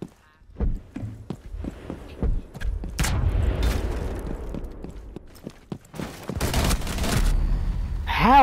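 Gunfire in the video game Rainbow Six Siege: rapid bursts of sharp shots crack out close by in uneven volleys, broken by a heavier boom and a noisy stretch of sustained firing.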